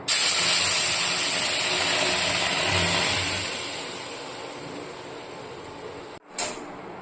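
Mango puree poured into a hot pan after toasted semolina and ghee, a loud bright hiss that slowly fades over several seconds, then a short clatter near the end, no talk.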